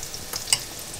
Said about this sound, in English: So while the meatballs are frying, it's time to finish off our mizeria.